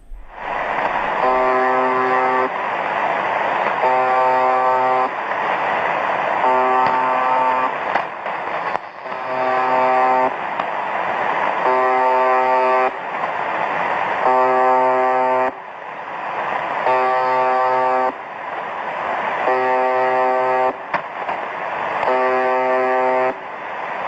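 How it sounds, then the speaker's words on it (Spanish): A harsh, buzzing electronic tone from a numbers station repeats in regular bursts separated by short gaps, steady and loud, going on and on without variation. "esto simplemente se va repitiendo una especie de pitido"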